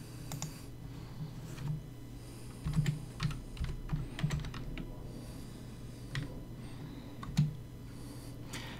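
Clicky keystrokes on a computer keyboard, irregular bursts of typing with short pauses, close and fairly soft over a steady low hum, no speech.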